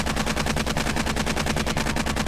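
Rapid automatic AK rifle fire in the zombie survival game 7 Days to Die, a dense, loud, steady stream of shots rattling continuously for the whole stretch with no pauses.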